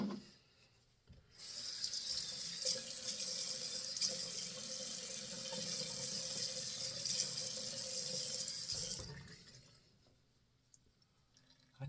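Tap water runs into a sink for a rinse after a shave with a Feather blade, a steady close hiss lasting about eight seconds before shutting off, with faint rubbing noises.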